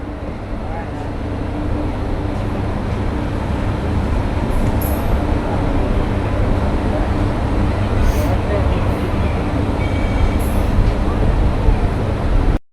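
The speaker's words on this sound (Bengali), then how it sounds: "সাইরাং কলকাতা এক্সপ্রেস সাইরাং থেকে প্রথম ট্রেন আজ উদ্বোধনী ইনোগ্রাল ট্রেন দেখতে পাচ্ছেন ছ নম্বর প্ল্যাটফর্মে প্রবেশ করেছে" The Sairang–Kolkata Express, on its inaugural run, rolls into platform 6 at Azimganj Junction with a loud, steady rumble that holds for the whole stretch, and faint higher squeals break in now and then.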